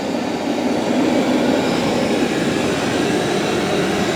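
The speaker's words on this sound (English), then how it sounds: "And so this is how loud it is. About 71 when it's mopping and vacuuming." A Roborock S8 Pro Ultra robot vacuum mops and vacuums with a steady, loud, broadband whooshing drone held close, constant for the whole stretch with no talk.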